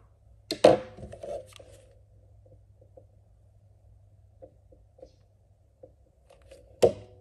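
Scissors snip through crochet yarn on a handmade rose, one crisp cut near the start and another near the end, with faint handling rustles in the quiet gap between.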